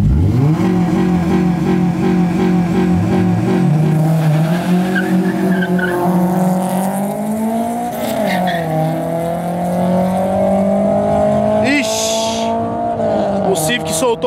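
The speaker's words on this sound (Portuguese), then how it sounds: "Golzão aspirado contra Civic SI" A naturally aspirated VW Gol races a Honda Civic Si, engines loudly revving and climbing through gears close by, with a brief shift dip and tire noise, under excited talk.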